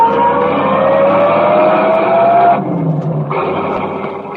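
Car engine and chase in a 1930s radio drama, with a loud engine whine rising in pitch, then a sudden cut to a lower rumble before the roar returns.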